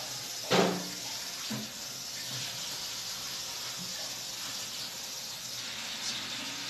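A kitchen tap runs with a steady hiss for several seconds while a cook fetches water, preceded by a brief clunk of a vessel at the start.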